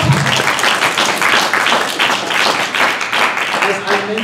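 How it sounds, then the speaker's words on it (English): Brisk audience applause at a money and relationships seminar, many hands clapping in a lively, slightly uneven patter at close range, with voices mixed in under the clapping. "Give yourselves a good round of applause."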